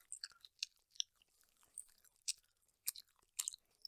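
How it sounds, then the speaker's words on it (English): Chickpeas are chewed right at a close microphone in a quiet setting, producing soft, irregular crunches and wet bites spaced unevenly, some sharper than others, with no talking. "I like to make chews with my mouth."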